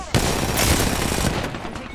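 Rapid automatic gunfire in the Apex Legends battle royale game, a loud close burst of dense repeated shots lasting about two seconds, with a voice talking faintly underneath.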